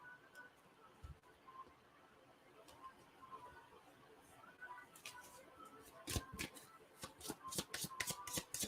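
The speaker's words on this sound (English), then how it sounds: "I'm going to shuffle them" Tarot cards being shuffled close up: soft rustling at first, then a rapid series of crisp riffling snaps toward the end.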